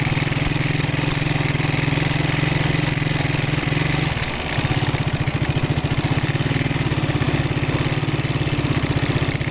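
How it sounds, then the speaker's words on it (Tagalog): A grass cutter's small engine runs loud and close, a steady idle that dips briefly, then settles into a faster, rhythmic pulsing chug, with no talking over it. "So bali na grass cutter ko na rin po yan. Start na po"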